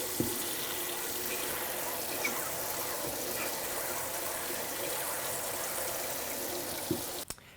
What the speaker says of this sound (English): we use a little warm water to wash away the drawing fluid, which has protected the screen from the screen filler